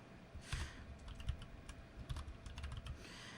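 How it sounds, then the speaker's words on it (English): Username typed on a computer keyboard at a PC, a quick run of light, close key clicks in uneven bursts with brief pauses, no voices. "you're going to type in your username"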